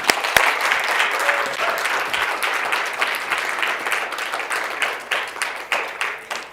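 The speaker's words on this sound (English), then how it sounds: "Can we kindly give ourselves a round of applause?" Sustained round of applause from an audience at a women's event, dense clapping that holds steady and then thins into separate, fading claps near the end, with no talking.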